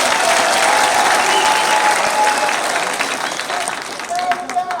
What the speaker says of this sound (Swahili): Hebu tupige makofi.